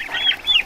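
Young bronze turkey poults calling: two short, high, wavering peeping notes in quick succession, loud and close with no other sounds.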